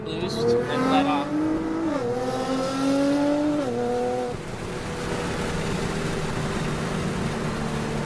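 Nissan GT-R R35 with Ecutek Phase 5 tune revving hard under acceleration, engine pitch rising in steps through gear changes before settling into a steady drone, heard from inside the car.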